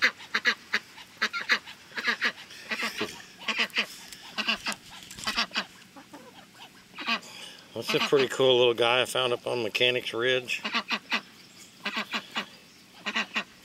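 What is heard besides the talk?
geese and ducks honking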